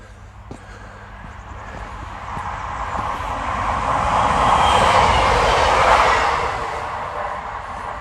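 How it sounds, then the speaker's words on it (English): A train rumbles past, building to a loud roaring peak midway before gradually fading, with a steady broadband hiss and faint rattling. "there is a train coming."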